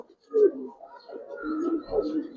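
A big male Giribaz pigeon coos, close and clear: a low, throaty rising-and-falling call that swells and repeats over a couple of seconds, heard alone without talk.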